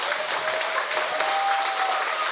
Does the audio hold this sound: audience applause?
yes